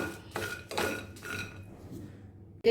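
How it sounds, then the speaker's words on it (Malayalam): Peanuts dry roasting without oil in a pan over a low flame give a few soft, irregular bursts of rattling and scraping as they are stirred, fairly quiet, followed by a sharper knock at the end. "ഇനി നമുക്കിതൊരു ചെറു തീയിലിട്ടിട്ട് വറുത്തെടുക്കാം കേട്ടോ എണ്ണയൊന്നും വേണ്ട"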